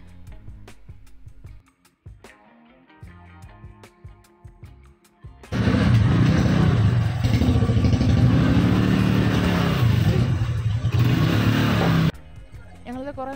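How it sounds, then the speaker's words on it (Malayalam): A boat engine near Pathiramanal roars loudly and close as the boat turns around from back to front, a sustained throaty drone that cuts in after quieter clattering with voices and drops away abruptly near the end. "ഞാൻ ഫസ്റ്റ് ടൈമാണ് ബോട്ട് ഇങ്ങനെ തിരിച്ചെടുക്കുന്നത് കാണുന്നത്, അതായത് ബാക്ക് ടു ഫ്രണ്ട് ഇങ്ങനെ എടുക്കുന്നത് കാണുന്നത്"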